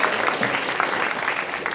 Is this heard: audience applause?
yes